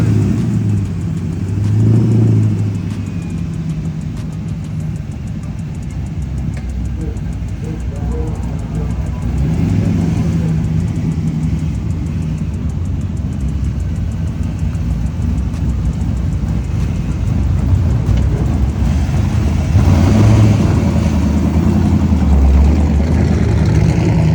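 Drag racing cars at Darlington Dragway, engines rumbling and revving continuously with loud low-end roar, under crowd noise and people talking nearby.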